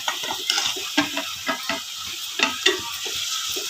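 Tomatoes frying with masala in hot oil in a pan for veg pulao, a spoon stirring through them in quick scraping strokes over a steady close sizzle, with no talking.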